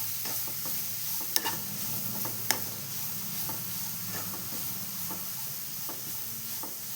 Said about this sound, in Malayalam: അപ്പോൾ ഇതൊന്ന് നമുക്ക് ഈ നെയ്യിൽ കൂടി ഒന്ന് വഴറ്റിയെടുക്കാം.